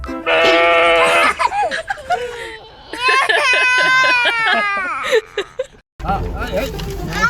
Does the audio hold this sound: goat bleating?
yes